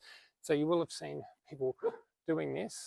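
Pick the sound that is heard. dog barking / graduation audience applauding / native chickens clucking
dog barking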